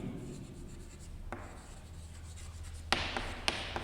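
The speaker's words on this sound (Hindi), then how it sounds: "यहाँ पर लिखेंगे" A pen or marker writing out a maths equation during a Class 11 mathematical induction lesson, with quiet rubbing strokes, a couple of sharp taps near the end, and no voices.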